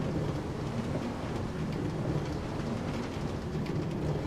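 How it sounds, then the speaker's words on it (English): Steady, dense rain pours in Minecraft with low thunder rumbling underneath, loud and continuous with no talk. "I wish it wasn't raining"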